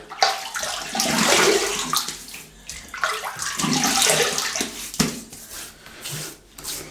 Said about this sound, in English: let's wet the mug.